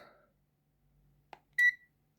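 A ZT-703S multimeter tester gives a single short, clear electronic beep as it starts up, with a faint click just before it and otherwise near silence.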